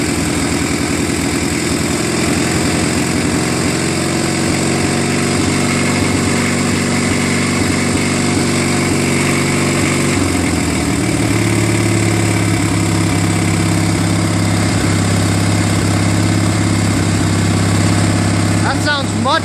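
Running on fresh spark plugs, the opposed-twin engine of a Murray Ultra garden tractor drones loud and close at a steady idle, dropping to a lower, smoother note midway, with someone speaking over the engine.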